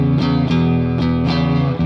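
A distorted electric guitar plays a short, chugging blues riff with rhythmic repeated notes, loud and close.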